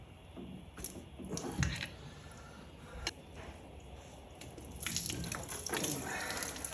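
Water dripping from a broken race car's engine part: scattered wet drips and splashes at uneven intervals, fairly faint, with light handling noise around them.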